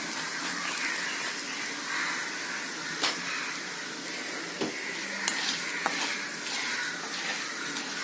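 Dal frying in a pan with asafoetida, a steady broad sizzle with a few sharp scrapes and clicks of a spoon stirring, close and continuous, no voices.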